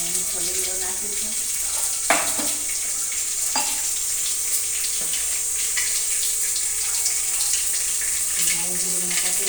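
Mustard seeds and cumin sizzling in hot oil, a continuous close bright frying hiss with a few sharp pops and crackles while a voice talks over it.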